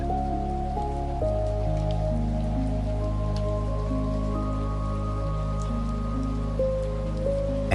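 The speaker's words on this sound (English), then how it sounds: "The whole world wrapped in steady, gentle rain." Steady, gentle rain falls around a cozy cabin in a valley at night, an even, continuous patter and hiss under soft sustained musical tones, with no voices.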